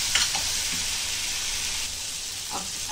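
Ginger garlic paste frying with softened onions in hot oil, a steady, close, dense sizzle throughout with a few faint scrapes of stirring and no talk.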